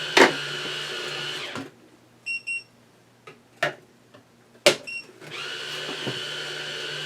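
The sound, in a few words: Zippy cordless juicer auger running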